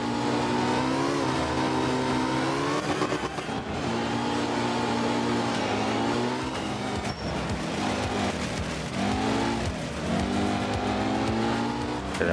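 A Porsche engine revs hard through a hairpin bend in a racing game, its harmonic whine rising and falling as the car brakes, downshifts and accelerates again, loud and continuous.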